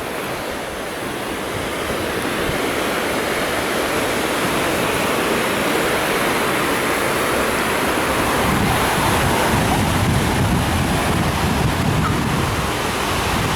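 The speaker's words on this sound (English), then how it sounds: "Come on, let's have a walk on the beach." Ocean waves wash steadily onto a beach on Koh Chang island, a loud, continuous roar of surf with broad hiss and rumble and no pauses throughout.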